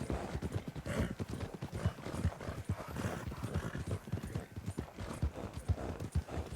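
Horse hooves clip-clopping in the video game Red Dead Redemption II, a quick, steady run of hoofbeats with a faint whinny, heard alone and fairly soft.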